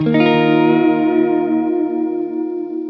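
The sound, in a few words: electric guitar through pedalboard with vibrato and chorus effects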